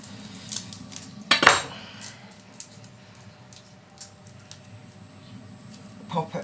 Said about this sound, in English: Just chop the end off.